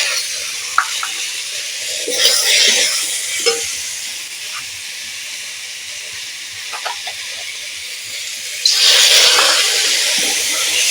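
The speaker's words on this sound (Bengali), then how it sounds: "মশলা আমি ভালো করে ভেজে নেব পুরো মশলার গন্ধটা যাতে বের হয়ে যায়" A spice paste of ginger, cumin, chili and turmeric fries with potato and onion in a hot pan, giving a loud steady sizzle and hiss, with occasional stirring scrapes and a louder burst near the end, and no talking.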